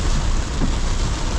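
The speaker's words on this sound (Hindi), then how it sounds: "बारिश की जो ये आवाज़ होती है" Rain falling on a car while driving, a dense steady hiss of drops with a low rumbling undertone, continuous and fairly loud without any talking.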